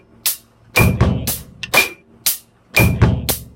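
A simple drum beat of kick drum and hi-hat, a short rhythmic pattern of sharp hits with gaps between them, close and clear with no talk.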